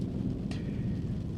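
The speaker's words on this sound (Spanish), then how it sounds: "Los truenos cimbraban cada uno de los vidrios de la casa y el sonido de la lluvia" Thunder rumbling over steady heavy rain at night outside a grandmother's house, a continuous low roar of rainfall with a brief brighter crack partway through, loud and constant with no voices.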